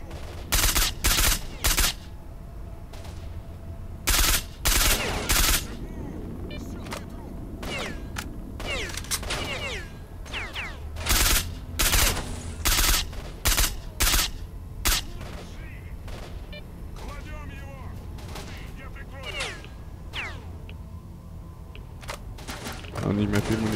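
Gunfire in S.T.A.L.K.E.R.: Shadow of Chernobyl, loud close bursts of shots in rapid clusters separated by short gaps, repeating throughout with a voice talking underneath.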